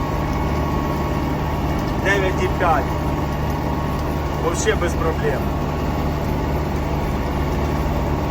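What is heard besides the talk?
tractor engine idling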